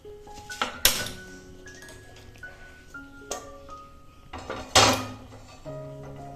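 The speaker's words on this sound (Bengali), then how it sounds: "এবার গ্যাস ওভেনটা অন করে কড়াই বসিয়ে দেব।" A metal wok is set onto a gas stove in a home kitchen, with several sharp metallic clanks and clinks spread out between quieter pauses, ringing briefly after each hit.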